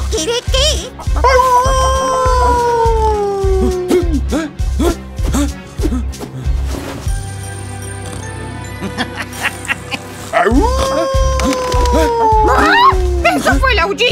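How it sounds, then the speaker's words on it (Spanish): A cartoon wolf howls on a farm, two long wavering cries that rise and fall at the start and again near the end. Chatter, barnyard clucks and yips come in between, all loud and close. "¿Eso fue el aullido de un lobo?"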